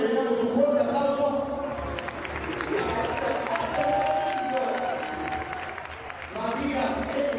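Audience at a national festival applauding and cheering a live band, with sustained clapping and crowd noise that dips briefly near the end and swells again.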